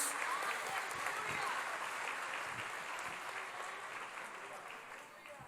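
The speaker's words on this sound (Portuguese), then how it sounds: "Quem recebe esta palavra, aplauda o nome do Senhor Jesus." A church congregation applauds, a soft, distant wash of many hands clapping that stays steady and then slowly fades toward the end.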